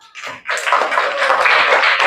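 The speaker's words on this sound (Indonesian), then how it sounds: "Untuk kelompok 6 silakan beri aplaus dulu." A classroom group claps together for a presenting student group, a short burst of dense applause that starts suddenly and carries on at a steady level.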